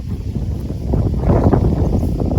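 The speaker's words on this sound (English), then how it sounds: "It's about 11 or 12 below right now with a 30-mile-an-hour wind." Strong 30-mile-an-hour wind during a Wyoming blizzard at 11 or 12 below zero, roaring and buffeting the microphone in a loud, continuous low rumble that swells midway, with no talking.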